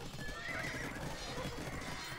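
Horses neigh and clatter amid a battle in a strategy video game, a dense, steady din of whinnies and hooves with a high sustained tone over it, no speech.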